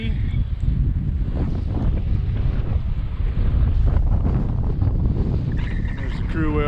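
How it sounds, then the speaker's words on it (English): Strong gusty wind roars across the microphone high on a rock outcrop near Duck Creek, Utah, a continuous loud low rumble with a brief voice near the end. "Really high, really windy."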